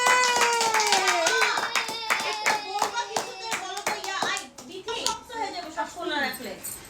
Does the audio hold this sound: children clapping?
yes